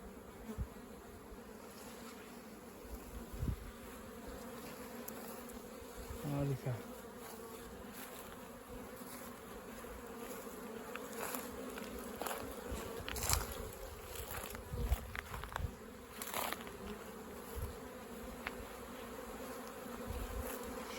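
Honeybees swarm busily around hives at an apiary at the height of spring, making a dense, steady buzzing that stays close and continuous, with individual bees whizzing past now and then.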